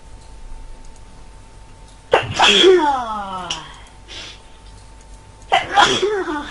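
Two loud, close sneezes a few seconds apart, the first trailing off into a breathy voiced sound, in the survival game Unturned.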